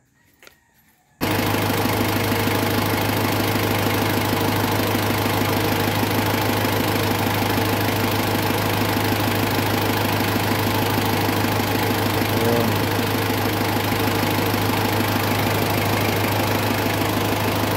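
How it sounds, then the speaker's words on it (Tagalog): A car engine with a radiator that is boiling over turns over and catches, then settles into a loud, steady idle that runs on without pause. "i-start ninyo yung makina, di ba?"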